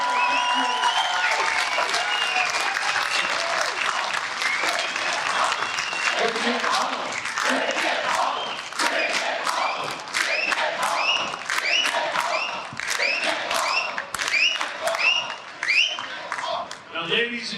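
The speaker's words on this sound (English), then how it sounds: "Ladies and gentlemen, a round of applause for Adrian Woolley leading the charge in the" A political rally crowd claps and cheers for a candidate, dense applause swelling with whoops and shouts, loud and sustained, with individual claps growing more distinct toward the end.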